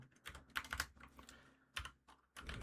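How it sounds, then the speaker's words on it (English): Quick bursts of keystrokes on a computer keyboard, close but fairly quiet, in irregular clusters with short pauses and no speech. "How loud is the keyboard? Is it that bad?"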